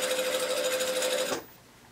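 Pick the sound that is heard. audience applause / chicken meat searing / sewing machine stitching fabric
sewing machine stitching fabric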